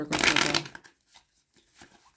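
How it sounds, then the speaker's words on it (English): A deck of tarot cards is shuffled in one loud, close burst of riffling lasting about half a second, followed by faint, sparse handling noises. "I'm just going to keep shuffling here."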